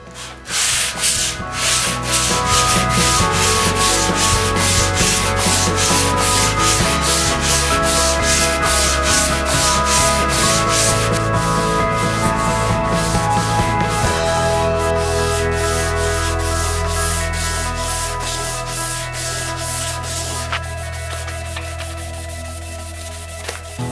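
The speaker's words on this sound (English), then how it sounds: "And I'll just do that on a soft pad just to polish up this ebony a little bit more." Rapid, steady back-and-forth rubbing as an ebony guitar fretboard on a Les Paul Junior is sanded and polished with soft acrylic pads, loud, close and continuous with a rhythmic scraping texture throughout.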